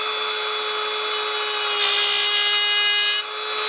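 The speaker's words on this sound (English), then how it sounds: "You see how fast that's going for this drill right here?" A high, steady electric whine of a small nail drill with a tungsten bit spinning fast, rising slightly in pitch and roughness midway as the bit grinds, then settling back.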